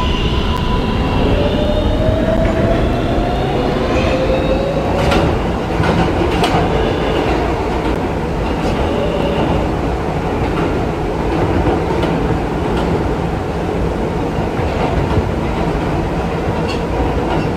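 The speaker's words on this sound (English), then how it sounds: "This is a 53rd Street bound Q Express train." Steady, loud rumble of an R143 subway train on the Q Express line in a Roblox game, running on tracks with rhythmic clacking and occasional metallic squeals throughout.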